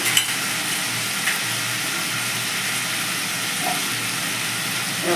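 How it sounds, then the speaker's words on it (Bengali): Spice paste with salt, Kashmiri chilli and green chillies frying and being stirred in oil for a Bengali chickpea dal, a constant soft sizzle with small scraping bumps and no voices. "এবার ভালো করে মশলাটাকে কষে নিলাম একটু কাশ্মীরি মির্চ দিয়ে দিলাম কটা কাঁচা লঙ্কা দিয়ে দিলাম"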